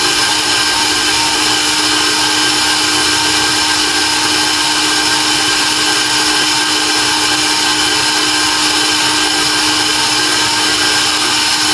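An electric mixer whirs loudly and steadily as it beats wet batter for an old-fashioned pineapple upside-down cake, a constant close motor whine with no breaks and no voices.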